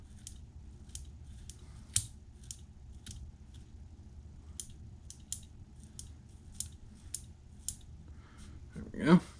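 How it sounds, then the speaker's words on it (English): Sharp, regular snips of scissors cut repeatedly at a steady rhythm, close by and crisp, with a faint rustle near the end. "Let's come in here with my scissors, kind of trim a little bit of this up here."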